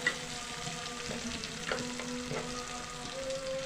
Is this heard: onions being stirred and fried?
yes